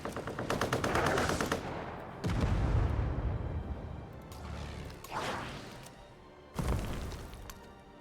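Dive bomber and bomber attacks in Civilization 7: rapid rattling machine-gun bursts followed by heavy booming impacts and crashing explosions, loud and dense throughout, with no talk.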